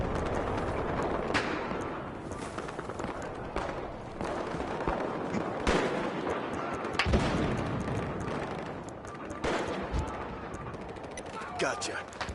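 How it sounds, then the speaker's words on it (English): Gunfire from the shooter game Battlefield Hardline crackles in bursts and scattered single shots under continuous talking, with rapid volleys and explosions in a busy firefight. "I'm taking heavy fire!"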